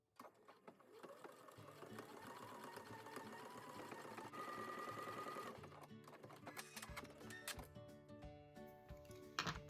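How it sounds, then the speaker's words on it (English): A sewing machine stitches a buttonhole sized for an 18 button, its motor whirring in steady bursts with rapid needle clatter, pausing and shifting pace as the buttonhole stitch pattern changes. "So I have my buttonholes sewn in."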